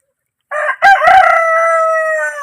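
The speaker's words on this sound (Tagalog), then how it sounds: "Tandang pala yun." A native rooster crows once, loud and close, in a single long drawn-out call broken by a brief harsh burst partway through, with no other sounds around it.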